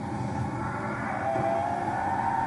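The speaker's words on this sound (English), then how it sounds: "time it so that the bus sets off and then I get on the bus" Bus engine in the TranZit map of a zombies video game, a steady, loud mechanical drone that swells slightly midway as the vehicle sets off, with no talk.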